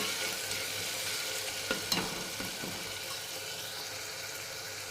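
Tomato masala fries in oil with a soft steady sizzle, punctuated around the middle by a few scraping stirs of the spoon against the pan.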